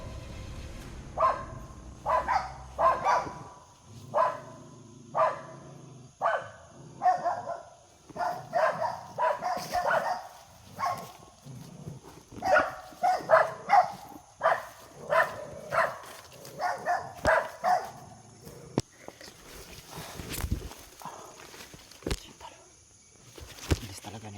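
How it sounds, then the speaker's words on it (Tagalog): Dogs barking in a series of sharp, repeated bursts at a fairly close range, coming in irregular clusters over a steady background, with the barking thinning out toward the end. "Yung mga aso."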